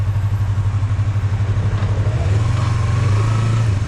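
A motor vehicle engine runs at a steady close idle, then the throttle opens and the revs climb and hold, with a louder, higher drone through the last second and a half.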